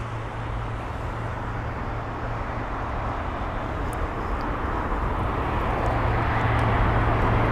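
Iberia A320neo airliner taxiing at Heathrow, a steady broad jet engine roar with a low constant hum, loud and continuous with no speech.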